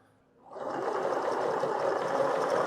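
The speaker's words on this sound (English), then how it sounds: "And it sews." An old sewing machine starts up and sews, its motor rising quickly into a steady, fast, loud mechanical whir that runs on alone without pause.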